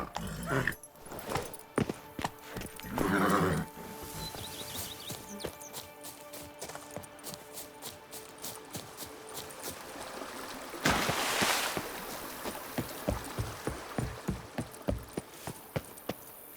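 The horse Roach trots in The Witcher 3: Wild Hunt, Blood and Wine, a faint, even run of clip-clopping hoofbeats with a couple of louder rushing bursts.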